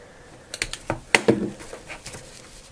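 Scissors snipping off leftover cord while finishing a vintage scrapbooking mini album, a handful of close, crisp little clicks and snips in an uneven cluster, with soft handling rustle between them.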